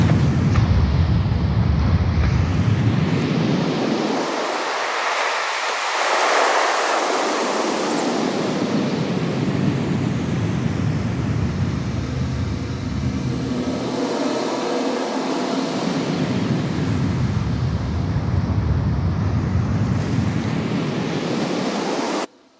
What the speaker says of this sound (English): So that's a pretty simple sound, just basically pitching and filtering an ocean sample.